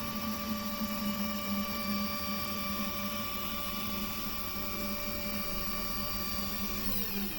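A Genmitsu 4040 Pro CNC router travels along its x and y axes at once, giving a steady, even whine of stepper motors and hum, loud and unbroken with no talk.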